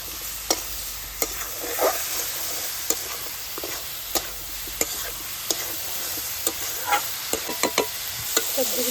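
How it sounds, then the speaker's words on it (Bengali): Fried vegetables being sautéed with spices in a pan: a steady sizzle runs throughout while a spatula scrapes and clicks against the pan in a regular rhythm, close and fairly loud. "সবজিগুলিকে মশলার সঙ্গে আমি কষিয়ে নেব"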